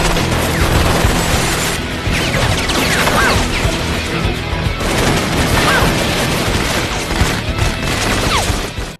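Dense, continuous burst of loud gunfire and crashing impacts with chaotic clatter throughout, a busy battle din with no pauses.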